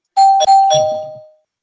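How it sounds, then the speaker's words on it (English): A single bell sound effect used as a spoiler alert in a comic book review show rings loud and close, a bright doorbell-like tone struck twice in quick succession with a sustained ringing decay. "I know I rang the bell, but I got to ring it again."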